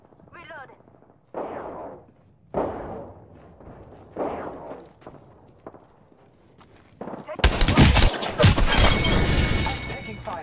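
Bursts of gunfire in the battle royale game Apex Legends come loud and dense in the final seconds, after a stretch of short voice-like clips and sparse sounds.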